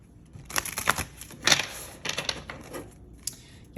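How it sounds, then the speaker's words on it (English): Quick papery riffles and shuffles of a tarot card deck in several short bursts, close by, with brief pauses between them. "Let's shuffle these a little bit more here."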